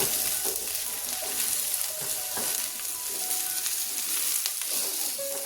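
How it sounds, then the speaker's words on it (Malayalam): Small potatoes and carrots are tossed with softened onions in a hot pan, giving a continuous sizzle with repeated scraping stir strokes close by, with no talking. "ഇതിലേക്ക് ഞാനൊരു ചെറിയ രണ്ട് ഉരുളക്കിഴങ്ങ് ക്യാരറ്റും കൂടെ ചേർത്ത് കൊടുക്കുന്നുണ്ട്"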